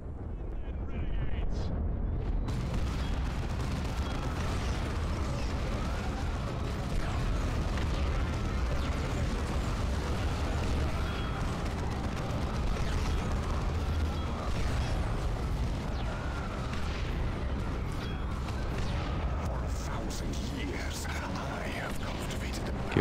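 Dense battle noise from Dawn of War 2 on hard mode: continuous explosions and booms layered with mechanical clatter, loud and unbroken throughout, while a voice talks over the gameplay.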